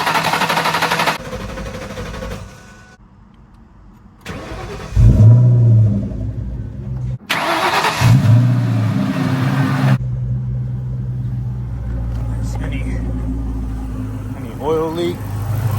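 A 2003 Ford Mustang Cobra in Sonic Blue, a convertible, revs hard in loud bursts that rise, cut off and return, with a steady rumbling idle between them, heard up close while someone talks.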